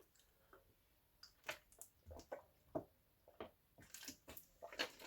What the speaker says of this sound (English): Sorry if that was gross, hearing the water glugging noises.